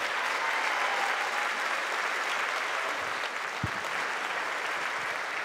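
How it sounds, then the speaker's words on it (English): A comedy festival audience applauds steadily for a stand-up comic, a dense, even wash of clapping that stays loud and unbroken throughout, with no voices. "Nice round of applause."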